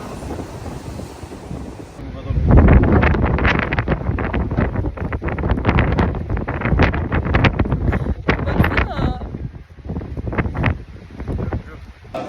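Strong seaside wind on Rhodes buffets the microphone in heavy, uneven gusts, with loud low rumbling bursts and a constant roar behind them.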